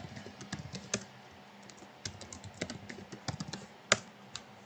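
Fingers typing on a computer keyboard, a quick irregular run of light key clicks heard close and alone, with a few sharper taps.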